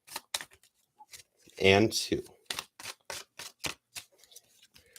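A tarot card deck is shuffled in a run of sharp, quick clicks and snaps, close and crisp. A short spoken phrase breaks in partway through.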